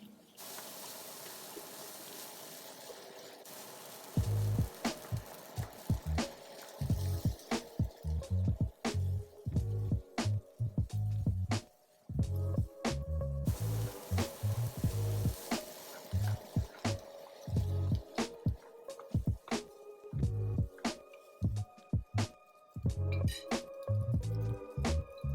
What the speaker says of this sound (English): Now turn up to high heat and stir until mixed well.